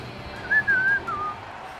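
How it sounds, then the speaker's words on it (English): A referee's whistle blows in the NHL 19 ice hockey video game, one bright tone lasting nearly a second, then a fainter trailing chirp, heard over a low arena crowd murmur. "Holds on to that puck to get the whistle."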